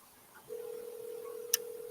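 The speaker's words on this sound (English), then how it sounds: "I'm calling them already." A telephone call being placed: after a brief quiet moment, a steady, faint electronic line tone sounds and holds continuously, with one short click partway through.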